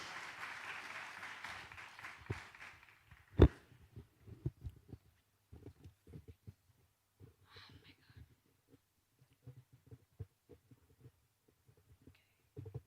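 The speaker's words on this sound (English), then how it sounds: "Ladies and gentlemen, I want it to be a better applause." A conference audience at a summit applauds a speaker named Stephanie, with dense clapping for about three seconds that thins after a sharp knock into scattered claps and soft thumps.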